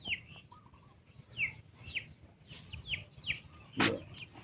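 Backyard chickens on a Filipino farm cluck in scattered short calls, several birds close by, with one louder squawk near the end over faint outdoor background noise.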